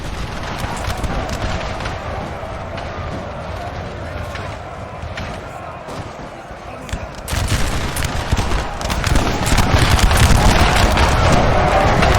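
A Russian line fires a musket volley in Napoleon Total War, a massed battle of thousands of men, with dense crackling gunfire and booms that swell louder toward the end over constant battlefield din.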